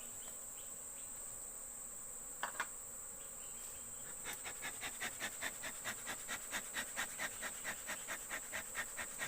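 A honey bee colony hums steadily during a honey harvest, with a faint continuous buzz joined by a regular run of soft ticking pulses in the second half, with no voices.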